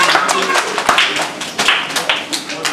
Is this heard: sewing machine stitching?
no